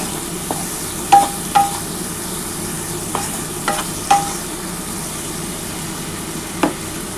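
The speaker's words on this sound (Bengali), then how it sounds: "খুবই হালকা করেই পেঁয়াজটা ভাজছি" Onion fries gently in very little oil for an egg and potato curry, with a continuous soft sizzle and scattered spatula taps and scrapes at irregular intervals.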